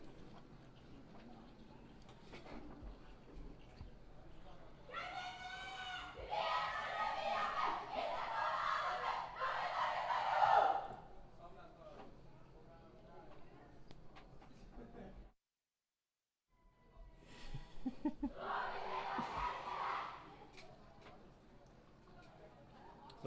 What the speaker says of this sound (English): Shout, cheering shout, motivation shout, and then we're ready for game one.